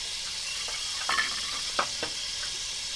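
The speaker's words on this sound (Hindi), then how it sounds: "प्याज को 2 से 3 मिनट के लिए कुक करेंगे।" Finely chopped onion sizzles in about 150 grams of hot ghee in a pot, a steady frying hiss broken by a few light stirring clicks and scrapes, with no voices.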